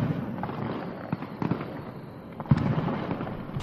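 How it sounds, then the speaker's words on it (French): Several sharp cracking firecracker bangs pop at irregular intervals over a steady background hiss at night, sounding somewhat distant. "c'est ainsi qu'on entend le premier pétard"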